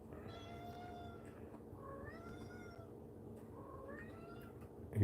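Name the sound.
begging cat meowing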